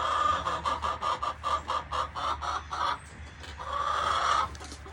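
Chickens and a rooster cluck in a backyard flock at morning time, a run of about a dozen rhythmic clucks followed by a longer drawn-out call, fairly close and moderately loud with no voices.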